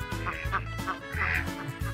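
A duck on a farm pond quacks several times in quick, nasal bursts, close by and moderately loud, with no voices over it.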